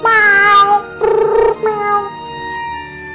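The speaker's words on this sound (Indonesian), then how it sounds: "Karena ia mendengar suara kucing." A cat meows three times in quick succession, close and clear, each call a drawn-out tonal cry with the middle one loudest, and no other sounds or voices around it.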